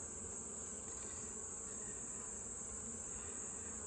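Honey bees in a hive around the queen, a steady dense buzzing hum that stays constant and fairly faint, with no talk.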